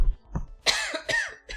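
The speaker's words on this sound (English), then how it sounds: "I got a cough." A person's cough during a kitchen meal-prep session: several separate harsh bursts, close and fairly loud, with short gaps between them and no talking.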